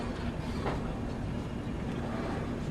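The Digha Tamralipta Express from Howrah rolls along with a dense, continuous rumble and rattle of carriages, close and loud, with faint rhythmic clatter and no voices.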